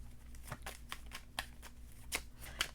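Tarot cards are shuffled in a run of soft, papery riffles and flicks, some sharper than others, close by in a quiet room with a faint low hum beneath.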